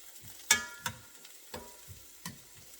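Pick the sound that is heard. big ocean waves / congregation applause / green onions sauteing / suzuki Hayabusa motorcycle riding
green onions sauteing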